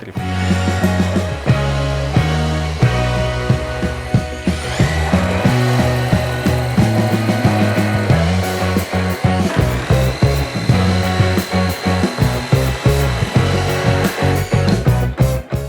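Vitals reciprocating saw cutting through wood with a dense, harsh mechanical roar that surges and eases in rapid strokes, ending in a series of choppy bursts as the blade slows.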